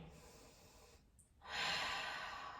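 A deep breath during a Hatha Vinyasa yoga flow: a quiet soft intake that pauses briefly, then a fuller, louder breathy exhale that holds steady to the end, close and alone.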